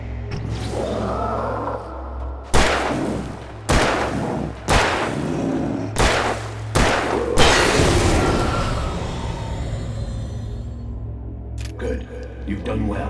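Gunfire in the video game Alan Wake Remastered: six loud, sharp shots at uneven intervals over a low droning score, with a long, rumbling wash after the last shot.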